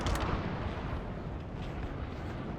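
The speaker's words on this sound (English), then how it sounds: "I can see cannon shots landing over here." Cannon shots landing during a Total War battle set in the Thirty Years' War, a dense booming rumble of artillery impacts with a sharp burst at the start, then continuous low battle noise.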